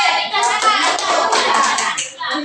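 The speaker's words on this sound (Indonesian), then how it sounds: "Tepuk tangan buat Patin." A classroom full of students claps hands together for a classmate, a dense, steady patter of close applause with children's voices mixed in and a short dip near the end.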